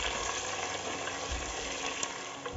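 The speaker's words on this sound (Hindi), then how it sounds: "अब इनमें हम प्याज डाल देते हैं। ये हम गोल्डन ब्राउन होने तक भून लेते हैं।" Onions fry in hot spiced oil in a pressure cooker for veg biryani, giving a steady, close sizzle with faint scraping ticks and no voices.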